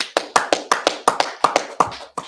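A congregation at a Sabbath service claps in a steady rhythm, about a dozen crisp, loud claps at an even pace with no talking over them.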